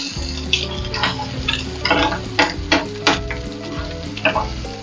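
Sweet bread frying in an oil-filled pan just after being flipped, a steady close sizzle broken by irregular crackling pops and light clicking of a utensil against the pan.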